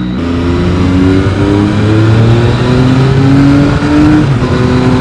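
Yamaha XSR900 motorcycle engine heard while riding, loud and close, with rising revs and gear changes over heavy wind rush and no voice.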